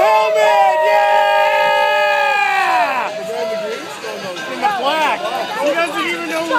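Loud crowd at a team relay bike race cheering and chanting in rhythmic unison, voices shouting close by over a busy background of chatter.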